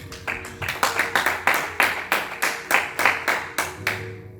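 A church congregation claps in steady rhythmic unison, roughly a dozen sharp, even beats with a soft wash of applause underneath and no voices on top.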